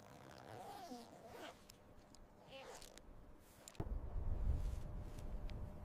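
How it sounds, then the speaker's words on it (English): A tent zipper drawn slowly on a frozen Everest climb, heard faintly and close up as a soft drawn-out rasp amid quiet wind, followed by a heavier rustle of fabric. "a zipper is pulled slowly to avoid ice jams"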